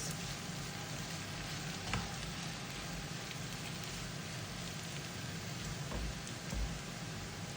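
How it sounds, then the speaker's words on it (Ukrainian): Onion and carrot stewing in a pan as rice is added, producing a steady soft frying hiss with a few small clicks and bumps, close but quiet, with no talk. "Зараз ще трошки кидаю рис"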